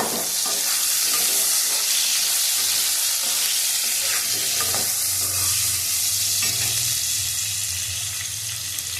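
Potato and radish fry in a hot pan, a loud, continuous close sizzle with hissing steam and occasional scrapes of stirring throughout.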